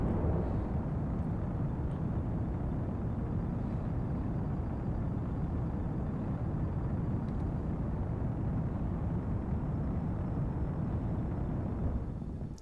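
A rocket booster engine burning in the Kerbal Space Program video game, a steady deep roaring rumble that holds at an even level throughout before cutting off at the end.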